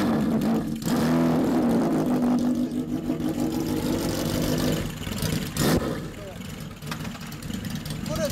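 A 1978 Kawasaki Z1000 Mk2 motorcycle engine runs steadily at close range, a continuous rough mechanical rumble with slight variations in pitch throughout.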